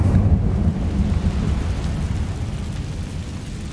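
The Incendio fire spell is cast in Hogwarts Legacy and sends out a steady, loud, roaring rumble, like flames or a storm, that lasts a few seconds with no talking.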